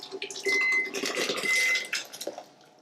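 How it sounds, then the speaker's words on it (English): Hot white wine cream sauce is poured into a blender, bringing clinks of metal and glass against the jar along with a brief liquid pour, heard close up. "I'm going to pour our sauce right into here."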